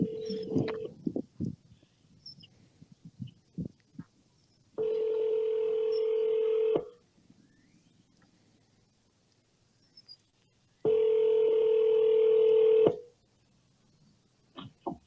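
Quick touch-tone beeps are followed by two long, steady ringback tones with a silent gap between them, with faint clicks and rustling in between.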